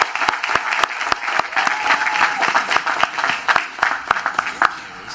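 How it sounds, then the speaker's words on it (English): A crowd at a university graduation ceremony in Orangeburg, South Carolina applauds loudly and steadily, with sharp individual claps popping out of the sustained roar of hands throughout. "Let's give him a round of applause."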